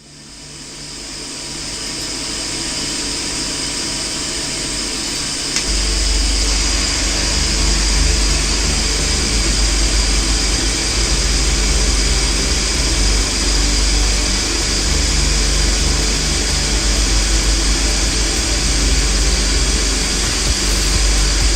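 A boring machine spindle runs with the tool fitted in a master shank, producing a loud steady whine and hum that gets stronger and deeper partway through as it spins up, then holds for the rest, with no talking.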